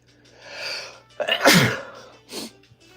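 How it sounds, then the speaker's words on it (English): One sharp, close sneeze in a card shop erupts after a quiet breathy build-up, followed by a softer short exhale or sound. "I gotta sneeze."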